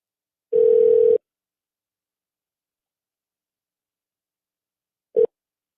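Telephone dial tone sounding as a call is placed: a steady tone for about half a second, then silence, then a very short second burst, loud and alone with no talk.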